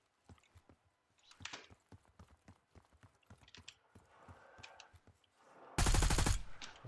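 Enemy gunfire in Call of Duty: Warzone: a long run of quick, sharp shots crackling at moderate distance, then a loud, dense burst of fire close by near the end.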